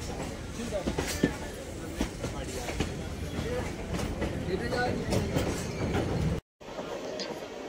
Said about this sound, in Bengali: এই যে ট্রেনটি আমাদের পাশ দিয়ে যাচ্ছে, এই ট্রেনটি 8টা 8-এর বজবজ লোকাল।